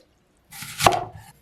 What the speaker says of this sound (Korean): 양배추의 심지 부분은 작게 잘라 블렌더에 넣을게요.